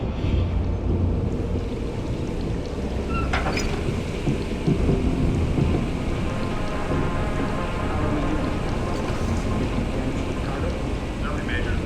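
A heavy thunderstorm in the video game Deus Ex: Human Revolution, with steady dense rain and a low rumble of thunder throughout, loud and continuous with no talking.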